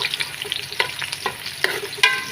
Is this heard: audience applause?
no